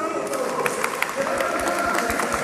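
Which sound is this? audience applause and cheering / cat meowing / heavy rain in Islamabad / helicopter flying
audience applause and cheering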